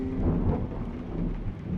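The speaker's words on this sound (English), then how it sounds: "Storms have their own captivating allure" Thunderstorm ambience in a video game: steady heavy rain with a deep, rolling rumble of thunder throughout, moderately quiet and continuous, with no voices.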